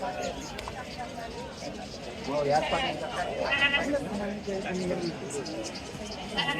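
Several goats, including Osmanabadi goats, bleat amid a busy livestock market in Chalisgaon, with voices chattering in the background and bleats overlapping at moderate distance.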